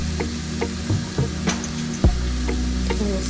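Mushrooms sizzle steadily in a hot pan with garlic and black pepper, under a constant close frying hiss broken by regular soft scraping taps as they are stirred.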